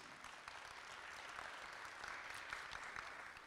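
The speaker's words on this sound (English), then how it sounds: "If you could all please just give him a round of applause." An elementary school audience claps for a visiting governor, a faint, even wash of applause that holds steady for a few seconds.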